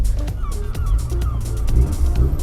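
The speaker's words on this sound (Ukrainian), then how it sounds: "Чайки." Several seagulls call in short, bright cries over the steady low rumble of a car interior, heard while picking up a car from a service shop.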